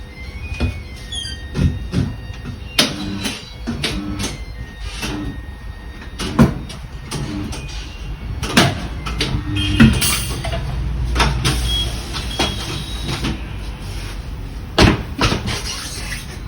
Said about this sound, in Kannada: ಮೆಷಿನ್ ಎಲ್ಲ ಬಂದು ಎಷ್ಟು ಈಸಿಯಾಗಿ ಆ ಟೈರ್ನ ಫಿಕ್ಸ್ ಮಾಡ್ತಾ ಇದ್ದಾರೆ